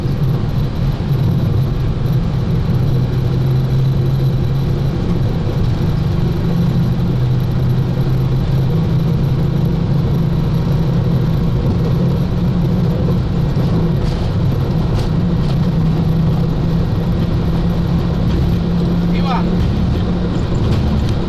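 Boeing 737 jet engines at takeoff thrust on a windy day roar steadily inside the cockpit, with a constant low drone beneath broadband rush and faint crew voices.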